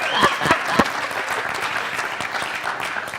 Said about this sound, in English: so don't clap too hard